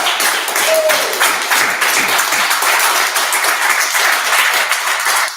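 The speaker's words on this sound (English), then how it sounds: "we're going to applaud him again" A crowd at a poetry festival applauds a poet, a steady, full wash of clapping from many hands, loud and sustained throughout.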